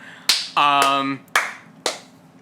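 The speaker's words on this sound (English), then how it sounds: "Slow clap for the N64." A slow clap: four sharp, separate claps spaced about half a second apart, with a short tonal hum overlapping the early claps.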